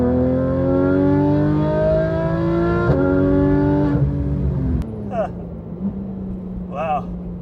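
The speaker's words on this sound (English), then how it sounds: "At higher RPMs, this thing is just ungodly." A Porsche 911 GT3 RS engine revs hard at high RPM, a loud rising mechanical wail, heard from inside the car. It shifts gears, then settles to a lower drone while a person speaks briefly.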